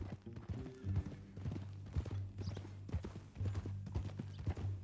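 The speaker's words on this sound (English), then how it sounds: "That new horse?" Steady, rhythmic clip-clop of horse hooves at a walking pace in Red Dead Redemption 2, close and clear, over a low droning background.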